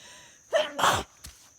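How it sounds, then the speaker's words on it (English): A single short, sharp sneeze, near and fairly loud, with a faint catch of breath just before it and a small click or thump after, all against quiet background. "Bless you."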